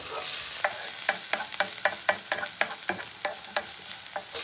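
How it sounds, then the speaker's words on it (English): Spring onion, garlic leaves and chopped green chili frying in a pan give a steady close sizzle, with regular spatula scrapes and taps about every half second as the mix is stirred. "spring onion, then chopped green chili, then fry slightly brown"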